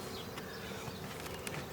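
Dense, steady buzzing of many bees around open beehives during a midsummer split inspection, a continuous close drone with individual insects flitting past the microphone.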